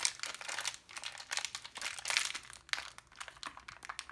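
A plastic wrapper on a Minecraft surprise toy crinkles and crunches close up in repeated irregular bursts as it is pulled and torn open, with no talking.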